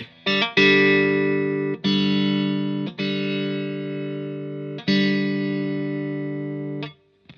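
An electric guitar runs through a gain pedal in long sustained distorted chords, four or five struck in turn and each ringing out loudly while the tone control is swept.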